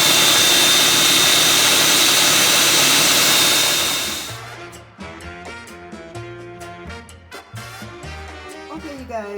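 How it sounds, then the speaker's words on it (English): A food processor grates celery root with a loud, steady motor whir and shredding noise for about four seconds, then cuts off, leaving quieter kitchen sounds. "And I'm going to grate up the celery root."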